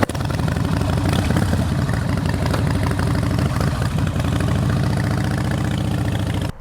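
A Harley-Davidson Softail Springer with an 88 cubic inch engine runs steadily nearby, its deep, loud, throbbing idle holding an even rhythm throughout.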